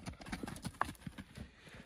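A pony's hooves clip-clop in a quick, uneven rhythm on its first day of training, the steps close and fairly faint, with a brief higher sound midway.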